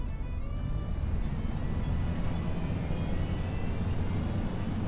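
A mower engine in Farming Simulator 25 roars steadily and loudly, a dense, unbroken rumbling drone with a jet-like whoosh that holds constant throughout.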